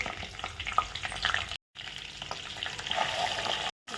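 Cumin seeds sizzle in hot oil in a home kitchen, a close, steady frying hiss sprinkled with small crackles, broken by two short gaps.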